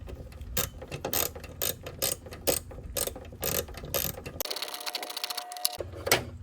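Socket ratchet turning the combination hex-head and Phillips screws on the alternator of a 2009 Range Rover Supercharged, a close, rapid series of clicking bursts with a brief pause in the middle.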